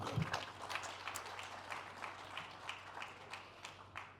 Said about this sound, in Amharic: ሞቅ ባለ ጭብጨባ ተቀበሉልኝ።